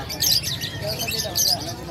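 Small cage birds at a breeder's aviary in Bocaue, Bulacan give repeated high, bright chirps and tweets in quick clusters, moderately close, over a steady murmur of nearby voices.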